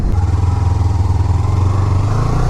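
Kawasaki Ninja 300 motorcycle engine at a launch holds a loud, close, steady droning rumble with a fast pulse throughout, slightly rising in pitch toward the end.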